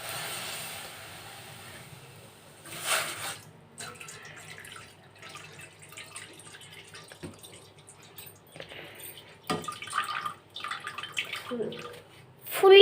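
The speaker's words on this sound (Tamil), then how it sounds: "தண்ணி கொஞ்சம் ஆட் பண்ணிக்கலாம்" Water is poured into a cooking pot for pasta in a home kitchen, irregular splashing bursts and trickles with clatter, fairly close, rising louder toward the end.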